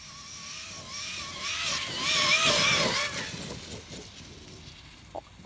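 Traxxas X-Maxx 8s RC car at full throttle, its electric motor whine swelling and then fading as it passes at moderate distance, with steady outdoor background and no voices.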